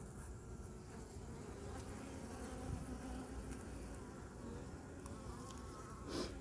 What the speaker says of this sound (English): So I kind of want to let the rest of the bees out.